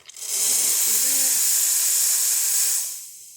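An Isomac espresso machine vents steam in a loud, steady hiss for about three seconds, then tapers off quickly.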